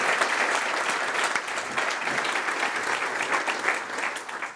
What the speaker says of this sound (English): Let's give one more hand of applause for all of our finalists and winners tonight.